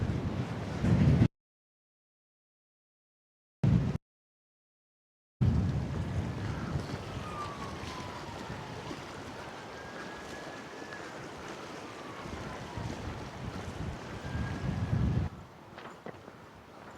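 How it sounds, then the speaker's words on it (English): Steady wind buffets the microphone on a hilltop in Bonaly Country Park, Midlothian, with a low rumble and rushing air that continues throughout, broken by two short gaps of silence near the start. "it's windy"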